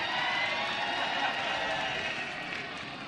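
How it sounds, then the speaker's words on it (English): A crowd at an AUDL ultimate frisbee playoff game between DC Breeze and Raleigh Flyers gives sarcastic applause. It sounds as a steady, distant wash of clapping and crowd noise that slowly fades. "Sarcastic applause from the crowd."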